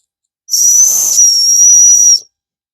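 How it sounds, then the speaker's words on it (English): A small whistle built into a survival knife multi-tool, alongside a flint, is blown once: a single shrill, breathy blast of under two seconds, loud and close, with silence before and after. "Not much of a whistle"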